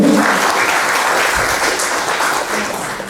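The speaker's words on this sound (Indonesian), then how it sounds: "Boleh beri tepuk tangan dulu Bapak Ibu." Clapping from an audience at a school gathering on positive school culture, a loud, dense burst that stays strong and even for a few seconds.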